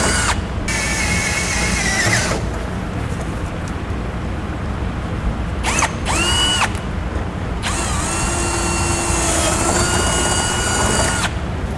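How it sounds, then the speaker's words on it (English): A power drill with a 5/16 inch bit bores through metal while rear air helper springs are fitted, loud whining bursts starting and stopping several times with pitch rising as the motor spins up, alone without talk. "We want to get that drilled out."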